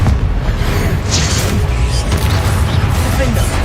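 Confringo blasting spells exploding in Hogwarts Legacy combat on hard mode, a dense run of loud booming blasts and crashes packed close together, with a shouted voice among the clamour.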